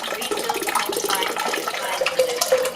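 Alkaline 11.5 pH water pours from a hose into a cooking pot, a steady close splashing and gurgling fill with no voices.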